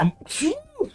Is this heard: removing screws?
no